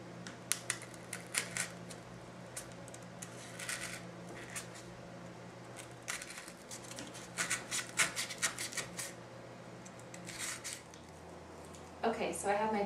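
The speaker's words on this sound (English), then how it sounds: "it takes a little bit to get a clean cut with the X-Acto knife" A craft knife scores and slices a jack-o'-lantern face out of card stock, giving soft scratchy strokes and light taps in short irregular bursts, fairly close, with a steady low hum underneath and a louder scrape near the end.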